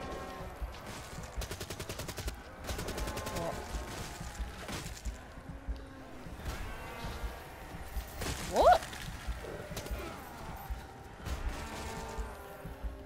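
Black Ops 3 gunfire comes in rapid bursts of automatic shots and scattered single cracks, with a louder hit near the middle over game background noise.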